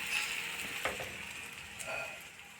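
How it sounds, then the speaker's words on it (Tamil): A breadcrumb-coated vegetable cutlet shallow frying in oil gives off a steady, faint sizzling hiss with small bubbling pops, continuous and close. "இதை வந்து எண்ணெயில் ஷாலோ ஃப்ரை பண்ணிக்கலாம்"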